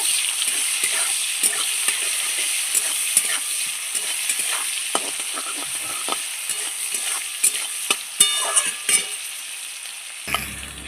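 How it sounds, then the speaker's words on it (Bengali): Onions frying in a kadai (wok) until browned, a steady close sizzle of hot oil broken by frequent scraping clicks of a spatula stirring, with no voices. "পেঁয়াজটা একটু লাল করে ভেজে নেব"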